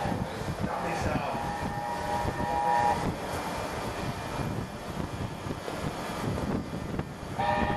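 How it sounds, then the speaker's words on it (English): A charter train hauled by steam locomotive 60007 Sir Nigel Gresley rumbles steadily through a station at close range, with brief tonal squeals and horn-like notes rising above the rolling noise. "a charter train is about to pass through the station"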